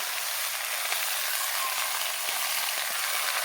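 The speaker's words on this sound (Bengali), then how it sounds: "বেগুনটাকে হালকা ভেজে নেব।" Eggplant pieces fry in hot oil in a home kitchen, giving off a steady, close, even sizzle and hiss with no talking.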